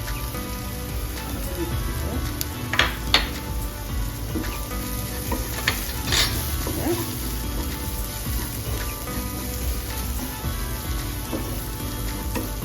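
Masala seasoned with coriander and chili powder fries in oil in a pan for a canned tuna dish, a loud, continuous sizzle with a few sharp spoon scrapes as it is stirred.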